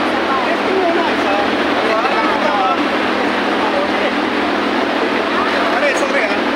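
A motor engine idles steadily on a test run in the Philippines, a constant close hum beneath people talking throughout.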